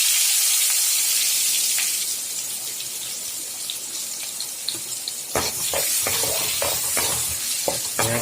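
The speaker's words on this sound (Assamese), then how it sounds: "ধুনীয়াকৈ আমি পিঁয়াজখিনি এতিয়া ভাজি আছোঁ।" Chopped onions frying in hot oil for an Assamese-style egg curry give a steady, close hiss; midway, sharper scraping and stirring clatter from a spoon in the pan joins the sizzle.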